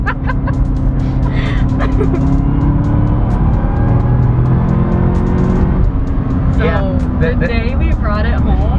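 A supercharged manual Cadillac CTS-V with 556 hp accelerates, its engine note a loud, steady rising drone heard from inside the car, with people talking and laughing over it.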